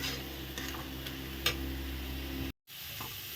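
Fried onion and dried chilli being stirred into a pumpkin leaf paste in a pan, a steady close sizzle with light scraping ticks and one sharper clatter, broken by a brief cut of silence near the end.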